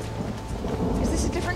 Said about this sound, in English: We're gonna get lost in this rain.